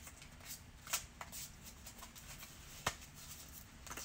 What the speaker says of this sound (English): I just keep shuffling these like crazy